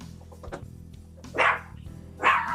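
A dog named as upset barks twice in a quiet indoor setting, each bark loud and close with a short yelping quality, separated by a pause of under a second.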